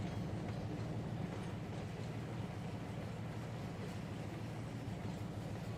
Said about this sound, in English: Great track sounds on some of these cars